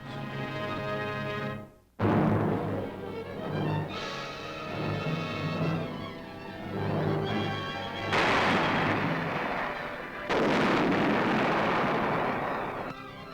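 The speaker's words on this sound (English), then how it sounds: "shells are loaded with food and medicine instead of explosives to be fired across enemy lines" Artillery guns on the World War II German front fire shells loaded with food and medicine across enemy lines, producing a series of heavy booming blasts and rumbling reports, loud and spaced a few seconds apart.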